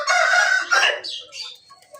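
A chicken gives a burst of loud nearby squawking and clucking that trails off into softer calls over a couple of seconds.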